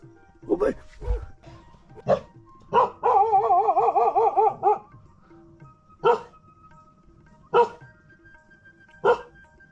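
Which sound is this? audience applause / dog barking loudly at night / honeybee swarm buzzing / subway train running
dog barking loudly at night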